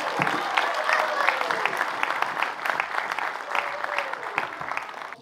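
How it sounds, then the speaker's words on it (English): An audience applauds steadily for several seconds, with dense overlapping claps and a faint murmur of voices beneath. "can we give a round of applause to the season 2 AHmoa group?"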